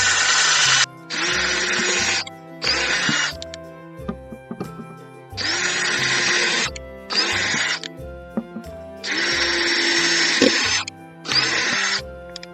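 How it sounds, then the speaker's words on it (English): A power drill bores a series of holes in a plastic self-watering container, whining in repeated loud bursts of a second or two, with short pauses and clicks between them. "Bunch of holes I'm going to drill here."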